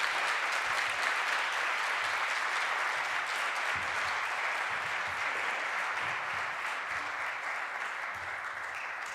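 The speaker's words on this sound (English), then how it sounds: "So Gabrielle, I applaud you on this work, and I invite you to come up to receive your award." Sustained applause from a crowd at an award ceremony, steady dense clapping throughout without pause, fairly even in loudness from start to finish.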